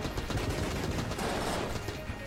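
Rapid AK rifle gunfire from a video game boss fight, a dense continuous burst of shots at close range with no talk over it.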